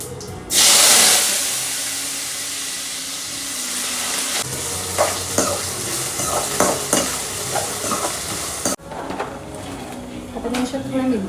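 Potatoes added to hot oil with cumin seeds sizzle and fry loudly in a pan, with a sharp burst at the start, then steady frying broken by scraping stir strokes and clatter, and a voice speaking partway through.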